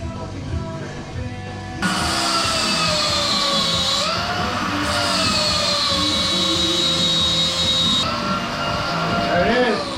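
A cutting tool whines loudly and steadily as it cuts through the drive belt on a 2020 Harley-Davidson Low Rider S, a high grinding screech starting abruptly and holding with small pitch shifts.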